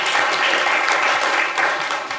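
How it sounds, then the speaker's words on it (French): Audience applause at a live studio talk show, a steady dense wash of clapping filling the whole stretch at close range with no voices over it. "C'est ça, applaudissez."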